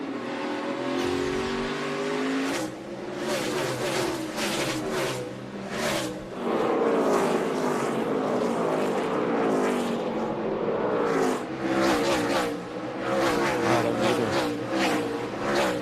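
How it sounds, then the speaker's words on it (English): A pack of NASCAR Cup race cars at the 2014 STP 500 roars off turn four, loud engines revving and shifting as cars pass close in a continuous, overlapping stream with tire squeal. "Things are going to get busy here as they come off turn number 4."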